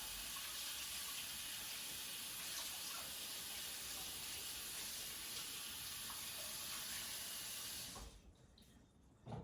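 A steady, loud rush of a running tap as sticky liquid stevia sweetener is washed off hands, continuing for several seconds before the water shuts off and leaves near silence.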